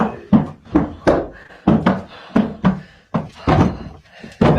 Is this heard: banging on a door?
yes